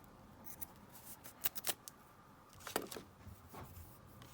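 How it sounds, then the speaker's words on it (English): Scissors snip through a piece of lace while trimming it for a small pocket on ready-made paper ephemera, several short crisp cuts sounding close and fairly quiet, with brief pauses between them. "let me just cut in some lace that we might want to just have on that little pocket"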